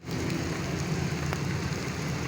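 Steady, dense rain pours down around a rooftop on a hot day, a continuous hiss of drops striking surfaces close by with no break or voices.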